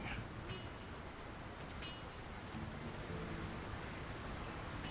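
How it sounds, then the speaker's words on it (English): Steady rain pours over a town in the fantasy action game The Lord of the Rings: War in the North, a dense even hiss running throughout at low level, with no clear voices. "Who could live in a town where it's always raining?"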